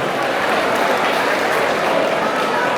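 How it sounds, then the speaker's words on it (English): A fight-night crowd applauds both fighters after three rounds, dense and steady clapping filling the hall with no break. "can we have a massive round of applause for both these fighters after 3 incredible rounds?"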